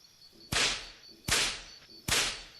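A multi-tailed whip cracks three times at an even pace in an audio drama, each crack a sharp loud snap trailing into a brief airy hiss, with no talking.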